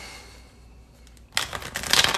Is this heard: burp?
no